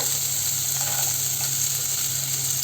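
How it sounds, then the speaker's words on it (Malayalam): Finely chopped garlic frying in coconut oil in a pan for chicken fried rice makes a constant, even hiss that stays at one level throughout, close and without speech. "അതേ വെളിച്ചെണ്ണയിലേക്ക് തന്നെ നമ്മളിതാ വെളുത്തുള്ളി അരിഞ്ഞിട്ടുള്ളതാണ് ചെറുതാക്കി അരിഞ്ഞ വെളുത്തുള്ളി ചേർത്ത് കൊടുക്കാം"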